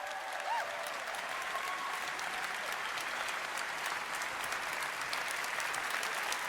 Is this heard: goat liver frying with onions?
no